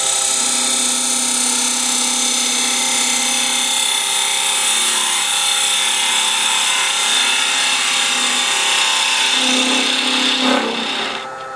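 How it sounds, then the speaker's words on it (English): A spindle gouge hollows a wooden bell ornament spinning on a lathe, producing a continuous, loud scraping whir with a steady low motor drone, running alone without talk until a brief clatter at the end. "So basically I've got a spindle gouge."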